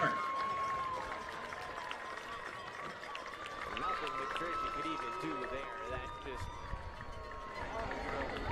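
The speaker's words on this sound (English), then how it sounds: "Let's give one more big round of applause to our entire royalty court." A crowd in the stands at a college homecoming football game applauds the royalty court, a broad, steady wash of clapping and cheering under a loudspeaker announcer's voice.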